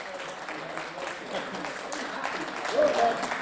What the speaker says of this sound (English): A huge round of applause for Matt Goodger-Scott.